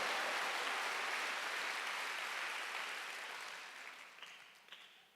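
A church congregation claps together during a Korean Wednesday worship service, a dense wash of applause that gradually fades out, with a few scattered claps at the end.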